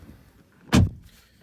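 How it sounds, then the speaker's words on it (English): A single solid thump of a car door shutting on a 2024 MINI Countryman JCW, short and close, with quiet ambience before and after. "So close the doors."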